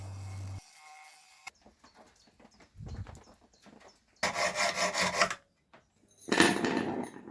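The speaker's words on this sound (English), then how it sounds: "Then we have to grind away the weld on the internals of the tube. This can easily be achieved with a multi-tool." A multi-tool grinds away the weld on the inside of a tube during a homemade lathe build, giving rough, rasping bursts separated by short pauses, with the last two bursts loudest and closest.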